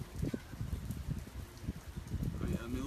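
Rain during Hurricane Harvey in Houston, Texas, heard as a soft, constant patter and drip outside at dawn, faint and steady with a few louder splashes.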